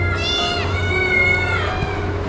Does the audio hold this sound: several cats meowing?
yes